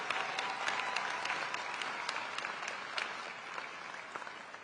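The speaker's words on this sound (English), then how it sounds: "please give them a warm round of applause for such a quick turnaround" An audience at a university commencement ceremony applauds the staff with a sustained, even wash of clapping heard from some distance, fairly soft and with no speech over it.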